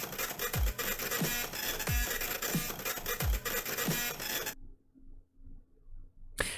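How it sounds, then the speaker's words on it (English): Printer-based music, an unused track for the Printor character from Deltarune concept art: a looping, scratchy mechanical printer texture with a thudding low beat about every 1.3 seconds, played at full volume before cutting abruptly to near silence. "a printer-based song that he could play"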